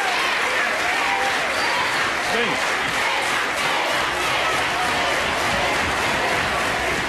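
A TV studio audience at a Brazilian entertainment show applauds and cheers, a dense, loud, continuous wash of clapping and shouting voices throughout, with a brief spoken word at the start.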